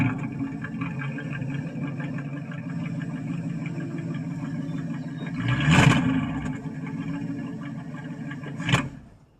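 A 1963 Ford Thunderbird with a 390 FE V8, quiet-type muffler and single exhaust idling steadily nearby, with a throttle blip midway and a sharp clunk near the end.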